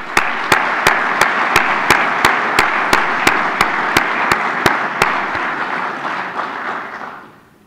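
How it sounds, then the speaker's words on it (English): Army ROTC cadets at a 2009 awards ceremony applaud themselves in a sustained, dense round of clapping that runs steadily for several seconds and then tapers off near the end, with regular sharp ticks audible over the crowd noise. "Cadets, go ahead and give yourselves a round of applause,"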